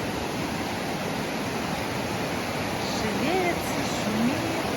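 Broad, steady rush of a river, loud and continuous like churning rapids, with faint birdlike chirps rising briefly near the end; no speech over it.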